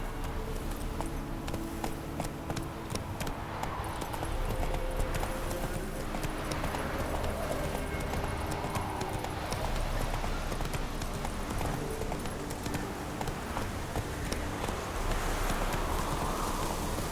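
Roach, a horse in The Witcher game, gallops with a steady, rhythmic clip-clop of hooves over a continuous dense background bed, with no voices.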